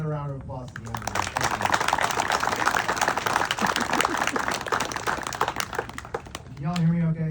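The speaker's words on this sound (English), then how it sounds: "give another round of applause to the Honor Guard" Sustained crowd applause for the Honor Guard at a retired Air Force major general's opening remarks, dense clapping lasting several seconds, with a voice briefly before and after.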